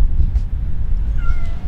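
A cat meows near a villa in Cyprus, a short high mewing call heard near the end over low rumbling background noise.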